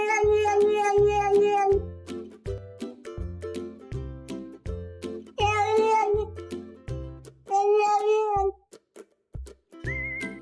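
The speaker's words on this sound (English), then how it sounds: "Cats whisper too. Ever heard them make soft little sounds like that?" A cat meows repeatedly in soft, drawn-out cries, a string of close, clear calls with short pauses between them and no other sounds.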